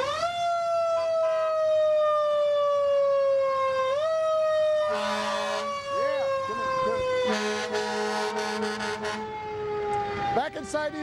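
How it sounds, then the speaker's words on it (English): A new fire department squad truck's siren wails loudly and steadily with slowly falling pitch, joined by horn blasts and mechanical rumbling, close at hand. "give us a siren, will you?"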